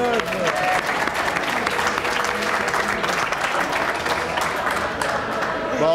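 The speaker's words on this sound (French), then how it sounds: "On les applaudit." Studio audience at a French television talk show applauds steadily after a punk band is named, a dense, even round of clapping that holds for several seconds and tapers slightly at the end.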